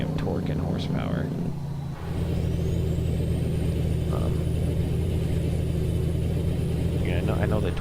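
A semi truck with an automatic transmission pulls under load, its engine giving a loud, steady low rumble with a brief dip near the start and a short hiss partway through, while a voice talks briefly early on.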